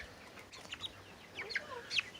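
Cornish Cross chickens cluck and peep softly in a brooder coop, a few brief scattered calls over quiet background hiss.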